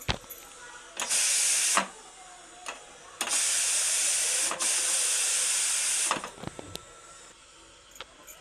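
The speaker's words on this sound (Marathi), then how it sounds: "वाफ काढून घेऊया आपण ह्याची" Bursts of loud steam hiss from a pressure cooker of ridge gourd curry, two long releases separated by clicks and small mechanical rattles, close up.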